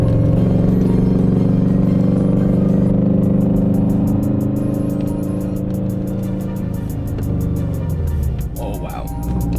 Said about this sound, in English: driving the car for the first time